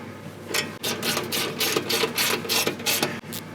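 A 13mm socket ratchet tightens bolts on a steel front bumper for a RAM 1500, giving rapid clicking bursts close by, interrupted by short pauses.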